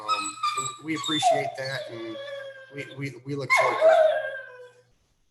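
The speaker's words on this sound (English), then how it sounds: "And that's my dog in the background." Dog whimpering and howling in the background of a home during an emergency council call, high upset cries rising over steady talk, with a few sharp yips.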